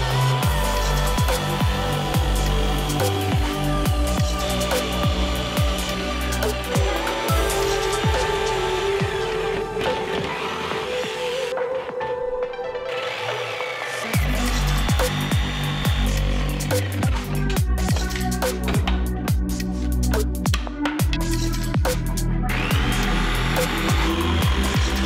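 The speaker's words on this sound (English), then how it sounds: "Now I'm gonna cut this out with probably a jigsaw." A jigsaw buzzes loudly through a board, cutting out a brawler shield, its blade chattering in rapid strokes with short pauses and a brief drop in the middle.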